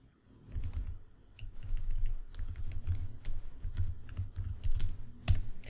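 Fingers tap out a login ID and password on a computer keyboard, a quick, irregular run of close, crisp key clicks with short pauses and a few harder strokes near the end.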